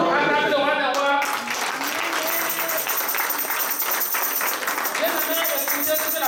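Church congregation applauding during a thanksgiving service, dense sustained clapping that fills the space, with a voice speaking over it at the start.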